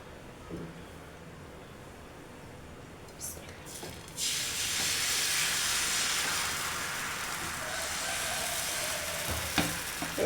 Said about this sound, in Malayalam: ഞാൻ ഫ്രൈ പാനിലാണ് ദോശ ഇടുന്നത് കേട്ടോ